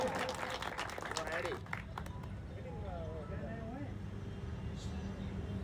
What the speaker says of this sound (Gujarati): સવિશેષ તાળીઓના ગડગડાટ પાડો સુરેશભાઈ મલાભાઈ દેહૈના